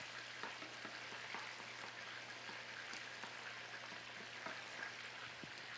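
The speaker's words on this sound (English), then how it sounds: "We're sauteing our onions until they are just translucent." Onions sauteing in butter in a pan, a soft steady sizzle and crackle close by, fairly quiet and continuous with no talk.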